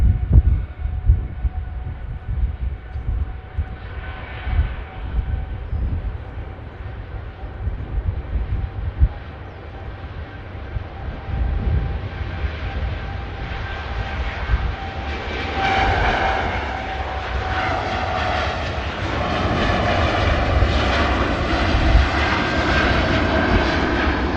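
A TUI Dreamliner's jet engines roar at Manchester Airport as it lines up and departs, a broad rumble that swells and rises in pitch as the engines spool up and the thrust builds.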